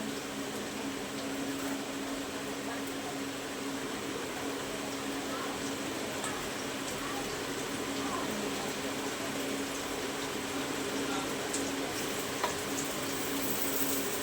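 Carrots, capsicum, spring onion and green chillies tossed into a hot pan for homemade Schezwan rice give a steady, close, even sizzle that runs unbroken throughout.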